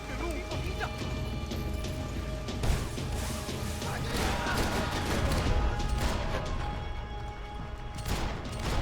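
Gunfire in the Max Payne 3 video game, a dense run of shots, crashes and impacts layered with music and effects, with someone talking over much of it.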